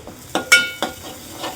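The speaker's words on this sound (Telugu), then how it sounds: "కలుపుతూ ఉండు కలుపు" Prawn curry sizzling in a pan while being stirred, with a few quick scraping strokes of a utensil against the pan over a low, steady sizzle.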